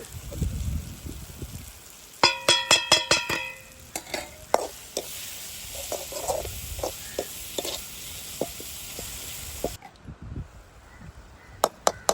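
Tomato, onion and spice powders sauté in a pan under a steady sizzle, with a burst of quick spatula scrapes and clinks early on and scattered stirring strokes afterward.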